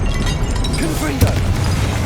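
A Confringo spell explosion in Hogwarts Legacy booms loud and deep, with a sharp crack near the middle over a rumbling bed, and a voice speaking briefly amid the blast.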